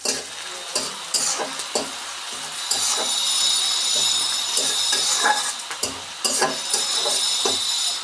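Torn bay leaf stirred into hot oil with frying onions for a chicken curry, giving a continuous close sizzle broken by repeated scraping stirs and clinks of the spoon.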